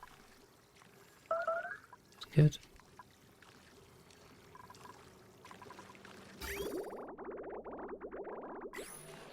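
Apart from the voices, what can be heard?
water filling a room in video game Oxygen Not Included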